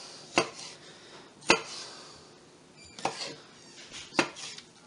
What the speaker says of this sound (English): chop some more up to add to it